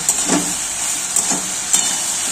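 Onions frying in a pan after the lid comes off, having released their water: a steady, even sizzle with a few soft stirring scrapes over it.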